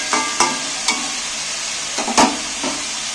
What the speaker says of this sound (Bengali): এইবার আমি তেলের মধ্যে ভালো করে নাড়াচাড়া করে ভেজে নেব।